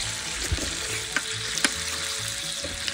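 Venison backstrap and onions fry in a pan close up, a steady crackling sizzle broken by a few sharp stirring clicks.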